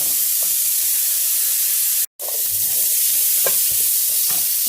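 Onions and vegetables sauté in a pan for sambar with a loud, steady sizzling hiss, broken once by a brief cut and by faint stirring clatter.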